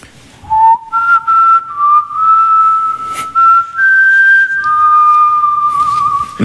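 A person whistles the Princess Mononoke theme in clear, close, sustained melodic phrases with short breaths between notes, performing alone with reverb on a live Korean radio broadcast, with no talking over it.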